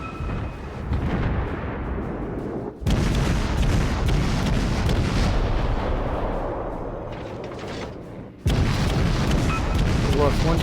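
Naval guns firing in World of Warships, a sustained roar of heavy artillery booms and rumbling blasts filling the scene, with sharp cuts where fresh salvos break in loudly.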